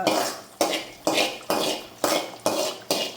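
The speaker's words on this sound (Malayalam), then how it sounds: "നന്നായിട്ടൊന്ന് ഇളക്കാം." A spoon stirs Kerala prawn curry in a pot after fried onion and curry leaves go in, giving seven close, evenly spaced metallic clinks about every half second, with no voices.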